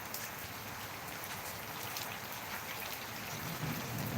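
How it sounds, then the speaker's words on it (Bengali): Heavy rain pours down in Dhaka, Bangladesh, in a dense, constant hiss, drops pattering hard on surfaces with no letup. "ভীষণ বৃষ্টি হচ্ছে"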